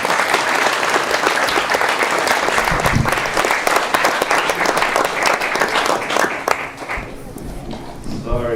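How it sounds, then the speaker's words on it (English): A gathered audience at Bhaktivedanta Manor gives itself a round of applause, continuous loud clapping from many hands that thins out near the end as voices come through. "Give yourselves a round of applause"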